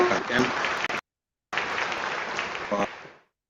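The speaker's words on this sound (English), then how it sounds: "So welcome, Reverend Jean-Pierre Kadima, with a round of applause." An audience applauds to welcome a speaker at a Mandela Day peace celebration, steady clapping broken by a brief silent gap before resuming and fading out at the end.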